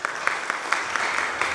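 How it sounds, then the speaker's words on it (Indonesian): A congregation at a Sunday worship service claps its hands together in a fairly steady rhythm, moderately distant and soft, the beats repeating over a low wash of room noise. "Seharusnya kita semua tepuk tangan dulu."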